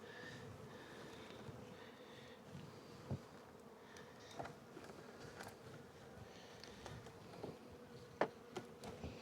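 Honey bees hum softly around an opened spring hive, a faint continuous buzz with scattered clicks and knocks from handling frames.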